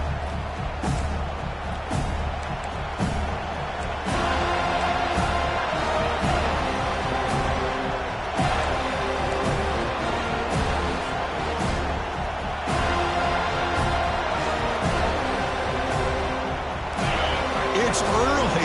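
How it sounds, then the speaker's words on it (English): A football stadium crowd in a Boise game roars and cheers in a continuous loud wash of noise, with swelling surges, while a commentator talks over it. "this crowd is fired up. Listen to this noise here."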